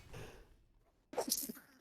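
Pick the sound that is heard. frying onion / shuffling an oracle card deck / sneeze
sneeze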